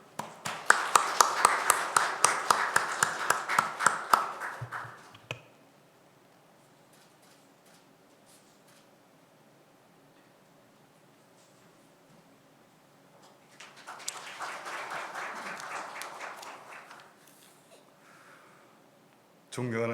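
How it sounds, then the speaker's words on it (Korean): An audience at a Korean judicial symposium on electronic litigation applauds to welcome a speaker, with a dense burst of clapping, a quiet pause, then a second softer round. "큰 박수로 환영해 주시기 바랍니다."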